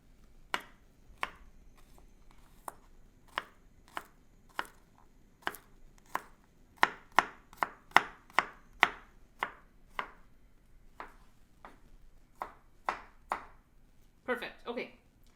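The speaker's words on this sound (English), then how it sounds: "also gonna chop my garlic kind of coarse" Garlic cloves are chopped coarsely with a knife on a board, with crisp, separate chops that quicken into a rapid burst midway, then slow, followed by a brief scraping rustle at the end.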